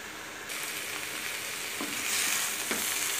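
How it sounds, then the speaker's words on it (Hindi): Soya chunks and potatoes frying in masala in a pan, a loud steady hiss of frying that swells midway, with a couple of faint stirring scrapes and no speech. "मैंने मसालों में डाल के अच्छे से भून लिया है सोयाबीन बड़ी को और आलू को"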